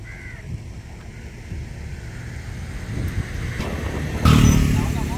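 A Yamaha two-stroke motorcycle in Jaffna, Sri Lanka, its buzzing engine drone growing steadily louder and surging strongly near the end as it passes, over wind noise.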